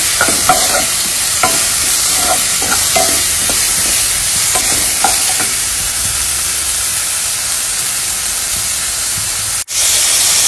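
Onion and green chili frying in oil on a home stove, a loud steady sizzle with scraping stirs early on, close and continuous without talk.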